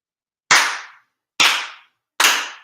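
Three sharp, sincere handclaps ring out one at a time with brief resonant tails at a Shinto monthly ceremony for Tenchi Kane no Kami, evenly spaced and close by.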